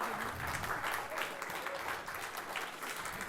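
A festival audience applauds the jury at a film festival closing ceremony in Mantes, with steady, dense clapping from a large crowd filling the whole stretch at an even, moderate level.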